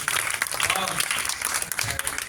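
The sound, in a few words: audience clapping at a satsang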